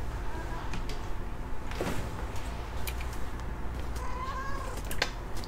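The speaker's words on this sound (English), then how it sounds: "Oh, kitty. Come here." A house cat meows faintly indoors, a short plaintive call toward the end over a low, steady room hum.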